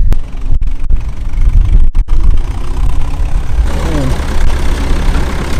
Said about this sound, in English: we see the tractor